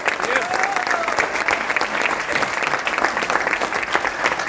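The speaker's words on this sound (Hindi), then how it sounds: "जोरदार दिल से तालियां।" An audience claps warmly at an event honouring legendary personalities, a thick, continuous burst of many hands with no gaps, loud and near throughout.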